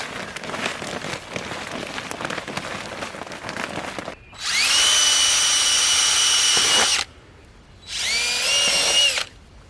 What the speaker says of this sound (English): we've learned to use the 1/4-inch drill bit